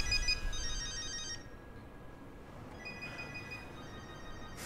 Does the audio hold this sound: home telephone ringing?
yes